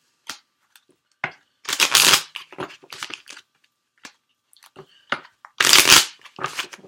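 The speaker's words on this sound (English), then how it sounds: "Let's get a couple more shuffles in." Tarot cards being shuffled by hand in several bursts: quick riffling rustles and soft taps, loud and close, with short pauses between.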